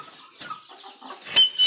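Chickens cluck in short, close bursts while pecking at a mixed grain and plant feed, a few sharper calls rising near the end.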